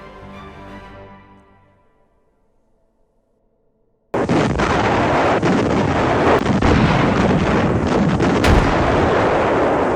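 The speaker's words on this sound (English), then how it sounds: "Then, suddenly, from a distant ridgeline on the right, German self-propelled artillery fire." German self-propelled artillery fires from a distant ridgeline: after a fading tone and a few seconds of silence, a sudden loud, dense roar of blasts and rumbling impacts continues unbroken to the end.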